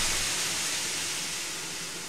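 A steam locomotive gives off a long, loud, continuous hiss of escaping steam that fades slightly as it goes on.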